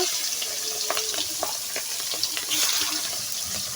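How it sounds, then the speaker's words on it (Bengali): Pangas fish sizzling as it goes into hot oil with elephant foot yam, a steady close frying crackle broken by scattered pops and clinks of utensils, with no talking. "মাছটা এখন আমি দিয়ে দেবো ওল দিয়ে আজকে পাঙ্গাস মাছ রান্না করব"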